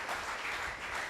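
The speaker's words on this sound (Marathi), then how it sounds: "जिंदे परमेश्वर के लिए एक बार जोर से तालियां बजाएंगे" Congregation clapping together in a church during worship, a dense continuous patter of many hands at moderate level with no talking.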